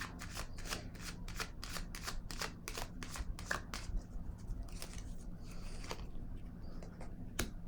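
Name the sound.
handling and drawing tarot cards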